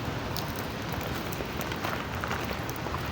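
Heavy rain falls steadily at a work site in Saudi Arabia, a dense, even hiss of drops striking surfaces nearby, with no voices.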